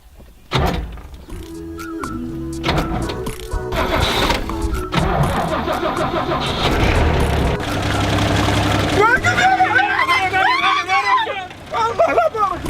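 A car engine cranks and starts, then runs loudly and steadily, with voices talking and shouting over it throughout.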